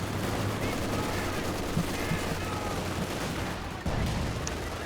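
Mortar fire in a 4 vs 4 World War II-style strategy game match, with dense rumbling explosions and battle noise running continuously and loudly throughout, and no distinct separate shots.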